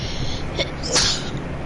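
A single short sneeze, close and fairly loud, in a Fallout 76 game session, with no talk over it.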